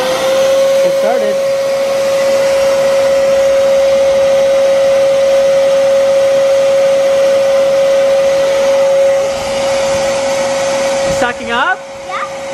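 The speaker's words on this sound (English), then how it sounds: "I see there's some dirt, so I'm gonna vacuum it" A vacuum cleaner runs steadily and loudly up close while cleaning a toy Power Wheels Porsche, a constant whining drone that wavers near the end as the nozzle moves.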